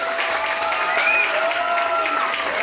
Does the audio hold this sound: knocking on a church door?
no